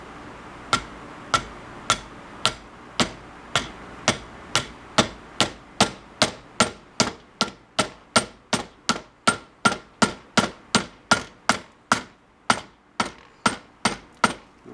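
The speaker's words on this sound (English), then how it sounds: "That's why I'm using that little plastic hammer." A small plastic hammer taps on a 1967 Mustang S Code convertible body panel during a test fit: about thirty sharp, evenly spaced knocks in a steady rhythm, close and clear, with no talking.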